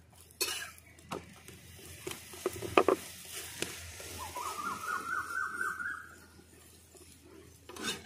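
A paratha shallow-frying in refined oil over a wood-fired stove, with a quiet sizzle punctuated by sharp clattering knocks of utensils, a cough, and a bird's chirping call partway through.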